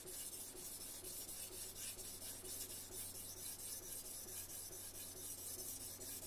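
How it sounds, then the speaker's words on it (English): Knife tip drawn repeatedly across a sharpener, a steady gritty rasping that continues evenly and fairly quietly throughout, with no one speaking. "Take the tip of your knife and let's just sharpen the knife."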